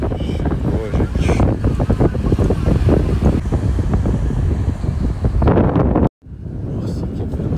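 Cold, strong wind gusts across a beach in Espírito Santo, Brazil, a loud, steady roar buffeting the microphone for several seconds before a brief cutout, then resuming.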